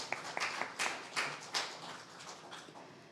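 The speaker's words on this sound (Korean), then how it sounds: "여러분 다시 한번 세 분에게 큰 박수 부탁드리겠습니다" Audience applause at a Ulsan youth forum, a scattered, moderately faint round of clapping with uneven bursts that tapers off.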